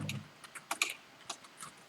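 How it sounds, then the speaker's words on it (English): Typing on a computer keyboard, with quiet, irregular key clicks in short clusters, close and soft with no talking. "I will explain everything after I finish typing it"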